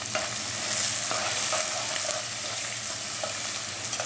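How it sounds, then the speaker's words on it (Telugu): Onion pieces fry with mustard seeds and a pinch of salt in a pan for a cluster bean fry. A steady, close sizzle carries light stirring scrapes throughout, with no voices. "ఉల్లిపాయ ముక్కలు అందులో వేసాను కదా, వేగుతున్నాయి"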